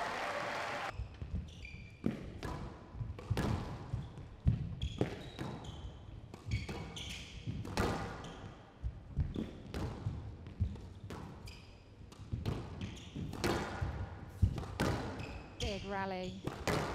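Squash ball strikes and wall thuds ring out in a quick, steady rally during the CIB Black Ball Women's Open 2020 final, El Sherbini against El Hammamy, with faint crowd and commentary voices behind the sharp hits.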